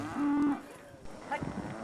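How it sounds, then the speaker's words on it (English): A single cow among a herd of cattle on a grazing plateau near Addis Ababa, Ethiopia lets out a short, close, low moo over faint outdoor background. "40-year-old herdsman Wakago has more than 20 cattle."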